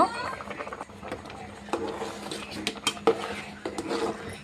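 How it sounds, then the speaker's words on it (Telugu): A spoon scraping and clinking in a pot while jaggery is stirred into cooked rice for pongali, with irregular metallic taps and scrapes over kitchen background and a person talking throughout. "ఇప్పుడు ఈ బెల్లం అంతా కరిగేంత వరకు మనం బాగా స్టిర్ చేస్తూ ఉండాలి"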